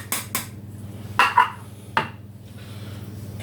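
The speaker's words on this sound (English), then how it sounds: "Give it a stir." A spoon scrapes and knocks against a pan while ginger and garlic are stirred into cooking onions, a few distinct clacks over a steady low hum.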